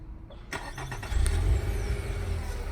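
2019 Nissan Altima started by factory remote start: a brief cranking burst followed by the engine catching and settling into a steady low idle, heard nearby without talk.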